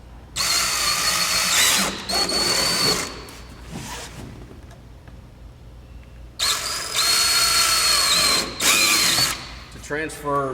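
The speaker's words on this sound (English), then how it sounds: "then drill those out" Power drill boring holes during a Chameleon installation, two loud sustained whirring bursts with a quieter spell between them, close by, ending with a short ratcheting spin-down.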